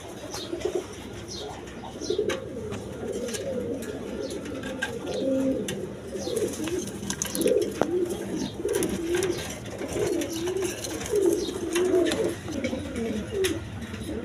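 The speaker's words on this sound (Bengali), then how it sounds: "দর্শকবৃন্দ এখানে এক পেয়ার কবুতর আছে" A pair of white Danish pigeons coo softly and repeatedly nearby in rolling, throaty phrases, with faint chirps and rustling in the background.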